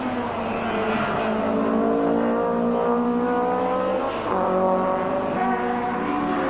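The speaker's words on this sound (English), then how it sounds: "further back in the touring car class, the BMW of Josep Bassas is the lead car" Touring race cars, a BMW among them, race at the Catalunya circuit. Engines drone loud and steady, with pitch climbing and dropping through gear changes as several cars run together.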